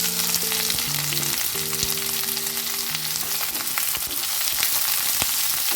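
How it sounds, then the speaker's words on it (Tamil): Onion fries in hot oil with a loud, continuous sizzle and crackle, and faint tonal sounds sit underneath throughout. "இப்போ நம்ம ஆனியன் போட்டுக்குவோம்"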